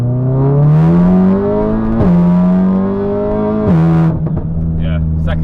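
Stage 3 VW Golf R with 500+ bhp pulling hard in second gear, its engine note climbing steadily in pitch across repeated rises with brief dips at the shifts, loud and close from inside the cabin.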